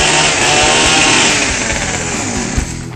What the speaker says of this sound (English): Rev up the chainsaw!